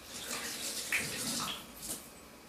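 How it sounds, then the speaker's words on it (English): Hands rinsed under a running kitchen tap while cooking pulled pork, a steady broadband splash of water lasting the whole short stretch, close and moderately loud with no talk over it. "So let me just give a quick rinse of my hands."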